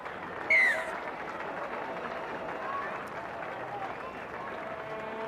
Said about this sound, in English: Applause for Nathan Wood as he's taken from the field by the New Zealand Warriors training staff.